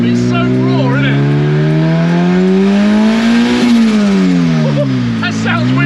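A turbocharged K20-engined rear-wheel-drive Mini at about 360 bhp revs hard and loud up close, its note climbing and falling as the wastegate opens with a raw hiss.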